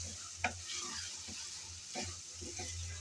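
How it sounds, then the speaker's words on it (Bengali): Mutton liver frying in a pan with a steady, close sizzle, while a spoon or spatula stirs through it in a few brief scrapes and clicks; no one speaks. "আমি 5 মিনিট পর এসে একটু নেড়ে চেড়ে দিচ্ছি।"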